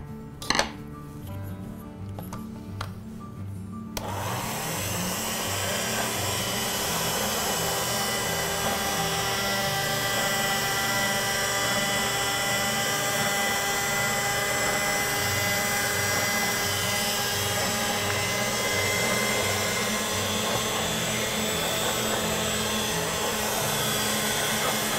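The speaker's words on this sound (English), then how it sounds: "I'm going to roll this out so that it's thin enough to feed through my pasta machine." A pasta machine rolls out gum paste for a striped wedding cake design, giving a steady, loud mechanical whirring drone that starts after about four seconds and runs unbroken to the end.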